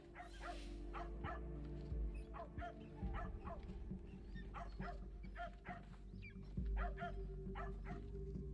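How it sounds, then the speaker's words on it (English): A dog barking in the video game Assassin's Creed Shadows, a run of repeated yapping barks and whimpers at mid distance, heard over a loud low rumbling game ambience. "Silence, you filthy mutt! Enough of that damn barking!"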